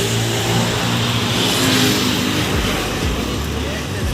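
Steady roar of highway traffic near the Perungudi toll gate, engines and tyres blending into continuous loud noise with vehicles passing close by; a voice talks faintly underneath.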